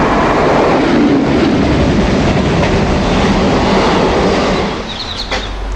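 A British Rail Class 92 electric locomotive rumbles past close by, a loud, steady roar of wheels and rail noise that eases slightly toward the end, with a faint squeal at the close.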